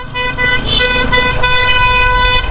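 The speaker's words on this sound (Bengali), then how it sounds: "হর্ন দিলে কিভাবে হবে?" A car horn honks loudly and continuously on a busy road while riding a motorbike behind a bus, with engine rumble underneath.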